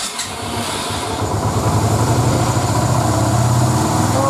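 A Yamaha Virago motorcycle engine starts cold with the choke pulled, then settles into a loud, close, rapid idle that runs steadily to the end.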